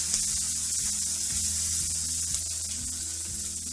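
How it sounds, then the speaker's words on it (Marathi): Korlyachi chutney, a niger seed chutney, is sautéed in hot oil for a Bhogi mixed vegetable dish, giving a steady, even sizzle and hiss that runs without a break and carries no talk. "हे आता कोरट्याची चटणी आहे ती ह्याच्यात घालायची ते पण तेलात चांगलं असं परतून घ्यायचं"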